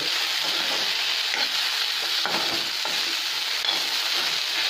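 Sliced okra stir-fried in a pan for a Tamil-style varuval, a loud continuous sizzle broken by repeated spatula scrapes and turns, close-up with no talking.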